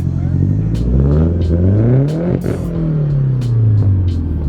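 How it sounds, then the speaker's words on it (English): Nissan 180SX engine revved while parked, loud and close, rising through a long climb in pitch and then settling back to idle, with a steady rumble underneath and a few clicks and clatters. "let's give it a little rev"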